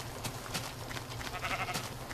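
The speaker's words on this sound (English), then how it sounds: "Oh. Sheep." Sheep bleating in the Minecraft video game, a few short bleats over a busy, continuous game soundscape with no talk.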